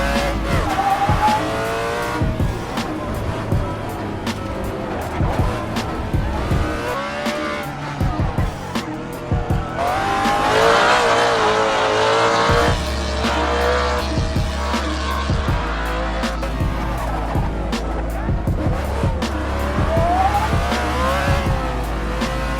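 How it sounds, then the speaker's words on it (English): A Ford Mustang is pushed hard along a twisty canyon road, its engine revving and dropping through gear changes while the tires squeal in repeated bursts, loud and close throughout. "A Mustang up here, it's a great piece of equipment for canyon hooning."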